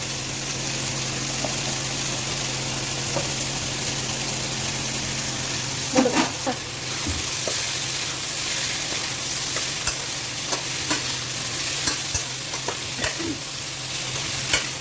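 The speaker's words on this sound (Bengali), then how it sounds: "এবার এটা রান্না করতে করতে যতটা ঘাটা হবে অতটাই ভালো লাগে" Amla (Indian gooseberry) pickle being stirred in a pan as it cooks, a low bubbling sizzle under scattered scraping clicks of the spoon against the pan, growing busier in the second half.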